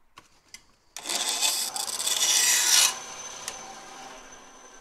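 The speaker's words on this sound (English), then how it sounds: "So I'll just get on the trusty bandsaw there." A bandsaw cuts through a piece of wood for a homemade archery target. A loud, close, raspy cut runs for about two seconds after a few light clicks, then the blade keeps whirring more softly afterward.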